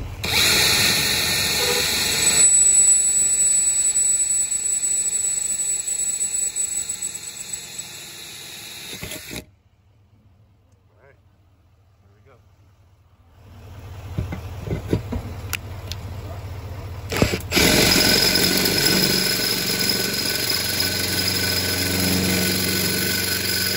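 A power drill with a cheap bit bores a pilot hole for a front splitter on a Lexus IS F. It whines loudly for about nine seconds, goes quiet, then spins up again and drills on steadily to the end.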